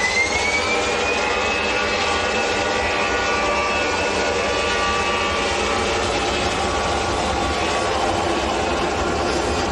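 An EasyJet jet bound for Barcelona departs Manchester Airport, its engines giving a steady, fairly loud roar with a slowly gliding whine on top. The sound stays continuous throughout, with no voices.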